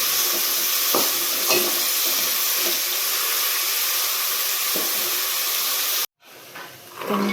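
Food frying and sizzling in a pan for a home-cooked Eid meal, a steady broadband hiss with faint stirring knocks, cutting out abruptly near the end before a quieter hiss resumes.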